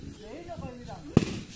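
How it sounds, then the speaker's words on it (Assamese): Diwali firecrackers set off by hand: one sharp, loud bang near the end, preceded by people talking. "ফটকা ফুটাইছে দেই হাততে জলকীয়া ফটকা"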